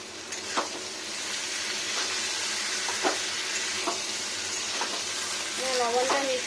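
Fried potatoes and eggplant being stirred with salt in a pan, giving a steady sizzle with periodic scraping strokes of a utensil. There is a brief voice-like tonal sound near the end.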